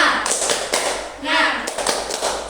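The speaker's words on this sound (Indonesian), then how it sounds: "kita tepuk semangat dulu ya" A classroom of students performs a rhythmic 'tepuk semangat' spirit clap during an Indonesian micro-teaching lesson: a sequence of sharp claps and taps, with voices calling out alongside them.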